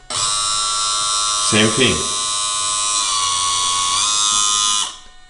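A realistic RC truck's hydraulic pump whines at a high electric pitch while its lever is turned, steady and close with a brief shift in tone partway through, then cutting off near the end; a voice speaks briefly over it.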